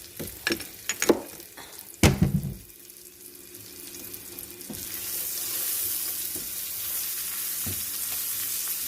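Sloppy joe meat caramelizes in a hot pan, with a few clattering stirs and scrapes up front giving way to a steady, close sizzle that holds to the end.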